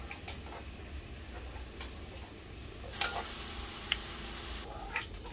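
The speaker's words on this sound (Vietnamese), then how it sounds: "Mình sẽ chiên sẻ và lá lốt trước." Chopped lemongrass and betel leaves fry in hot oil for a fried fish dish, giving a steady, quiet sizzle with scattered ticks and pops and a few sharper crackles.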